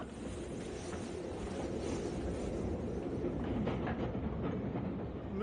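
A train runs on rails as a radio drama sound effect, a steady close rumble with a faint rhythmic clatter. It holds constant throughout, with no voices.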